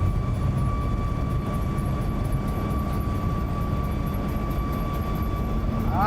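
Boeing 737 MAX on its takeoff roll from Washington National, engines at high thrust: a loud, steady broadband roar with a constant whine, heard from inside the cabin without a break.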